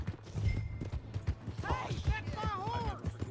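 Ridden horse's hooves clip-clopping in Red Dead Redemption 2, a steady low thudding rhythm close by, with voices and a whinny-like tonal sound partway through.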